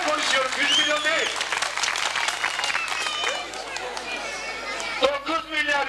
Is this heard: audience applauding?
yes